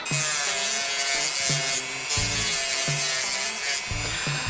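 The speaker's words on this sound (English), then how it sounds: "using a Dremel tool to carve them is actually pretty beneficial" Dremel rotary tool carving and flattening a wooden ring, a high whine overlaid with repeated rhythmic rasping passes against the wood, close and steady.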